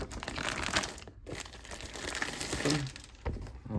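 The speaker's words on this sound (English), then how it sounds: "It comes in this plastic wrap. Let's get it open. Plastic packaging with some tape." Plastic wrap packaging with tape being opened on a new HO scale model locomotive, close crinkling and crumpling in short bursts with a brief pause and a final sharp rustle.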